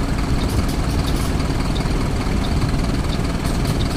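Diesel engine of a 2007 Marcopolo Torino city bus on a Mercedes-Benz OF-1721 chassis idles close by, a steady, loud low rumble with a constant chugging texture throughout and no talk.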